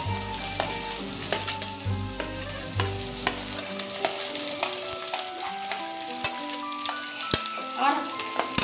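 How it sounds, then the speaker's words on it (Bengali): Chopped onion frying in oil with garlic in a pan, a steady close sizzle with scattered sharp crackles and pops throughout, plus a low hum that drops away partway through. "এবার আমি পেঁয়াজটা দিয়ে দিচ্ছি ফোড়নে"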